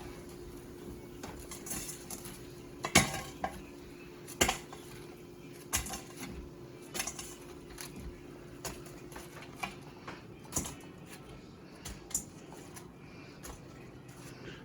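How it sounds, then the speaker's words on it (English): Air-fried chicken wings drop into a bowl with a run of light, scattered clicks and clacks, quiet and close over a faint steady hum. "Now we put them in the bowl."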